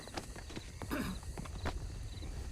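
A horse's hooves clip-clop at a walk in a video game set in Saint-Denis, a loose string of close, moderate thuds over a low background bed, with no talk.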